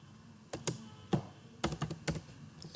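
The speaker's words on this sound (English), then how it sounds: "So now I am typing here" Computer keyboard typed on while searching for Unity Hub software during a virtual reality installation, a handful of separate key clicks and short bursts spread across a quiet room, close and clear with no talking.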